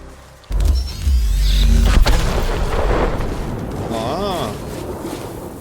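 A weapon fires in the video game Chernobylite, a loud heavy boom with a rumbling tail, followed by electronic whirring and tonal sweeps.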